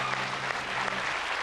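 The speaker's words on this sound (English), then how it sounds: "Give him a round of applause" Audience applause at a comedy panel show, a steady dense wash of clapping from a studio crowd, loud and continuous for the whole moment with no talk over it.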